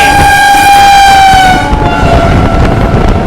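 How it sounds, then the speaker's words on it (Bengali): Sri Jagannath Express rushing in at high speed, its loud sustained horn blaring close and then dropping in pitch as it passes, with heavy rolling rail noise underneath. "সামনে ভয়ঙ্কর গতিতে একটা এক্সপ্রেস ট্রেন আসছে"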